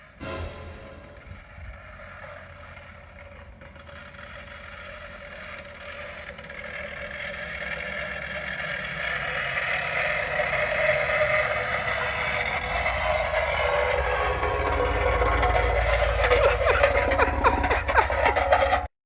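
A 2018 Chevrolet Tahoe idles with its exhaust running rough and droning, as after a muffler delete, building gradually louder and deeper with a steady rumbling roar close by, and no talking.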